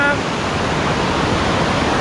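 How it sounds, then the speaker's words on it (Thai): Ton Phrae Thong waterfall in the Banthat mountain range, a steady, loud, broadband rush of falling water filling the whole moment without a break. "และที่นี่ก็คือน้ำตกโตนแพรทองนะครับ"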